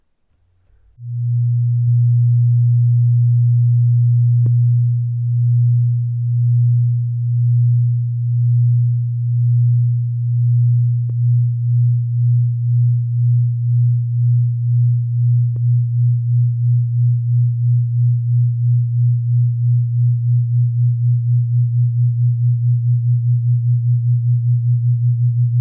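Tone generators produce a steady pure electronic tone humming alone, its loudness throbbing in slow pulses as they beat out of tune, gradually quickening into a rapid wobble.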